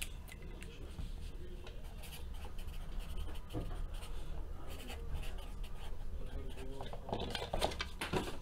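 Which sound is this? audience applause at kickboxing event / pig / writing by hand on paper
writing by hand on paper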